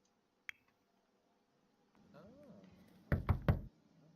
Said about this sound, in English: let's have her go knock on the door to introduce herself